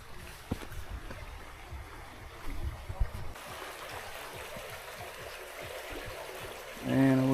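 Kitekite waterfall stream near Piha, New Zealand, gives a steady broadband rush of flowing water that runs throughout at moderate level, with a brief louder tonal sound near the end.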